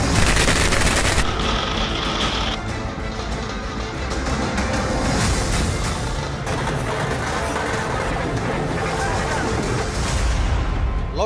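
Firecrackers and celebratory gunfire go off at an election victory celebration in Uttar Pradesh, a dense, continuous crackle of rapid bangs and pops layered under crowd noise, with a voice speaking over it throughout.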